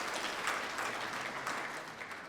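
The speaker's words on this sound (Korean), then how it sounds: "박수로 환영해 주십시오." Welcoming applause from the audience at a Korean commemoration ceremony marking the 105th anniversary of the Battle of Cheongsanri, a steady, moderately faint wash of clapping that holds evenly throughout without any voices.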